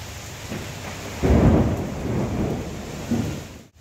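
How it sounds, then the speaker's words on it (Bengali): Heavy rain pours down steadily while thunder rolls in with a loud low rumble midway and another swell near the end, a full outdoor storm with no voices. "এই মুহূর্তে দেখেন একদম ঝুমঝুমিয়ে বৃষ্টি শুরু হয়ে গেছে, বৃষ্টির সাউন্ডটা না সেই ভালো লাগে।"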